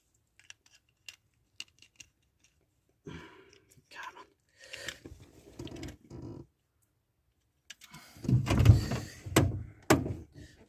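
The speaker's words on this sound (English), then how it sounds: "I have to open the other door for a little bit of light" A Peugeot 205 car door opening, with a few sharp clicks and soft handling noises at first, then a louder, closer burst of rattling and thudding near the end; no talk.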